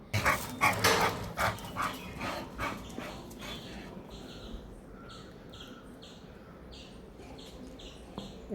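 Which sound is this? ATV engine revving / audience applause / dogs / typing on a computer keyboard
dogs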